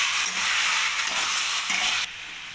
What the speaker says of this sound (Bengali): চিকেনের সাথে মশলাটা ভালো করে কষিয়ে নেব।